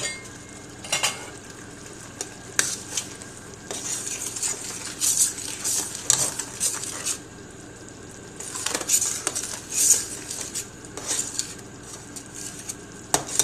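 Five chilies with pepper stirred in a hot pan, intermittent clinks and scrapes of a utensil against the metal over a low, faint sizzle, with quiet gaps between strokes.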